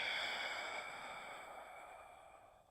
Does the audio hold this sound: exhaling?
yes